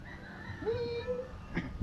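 A cat lets out a single drawn-out meow in the middle, fairly close, with low background rumble and a few soft knocks near the end.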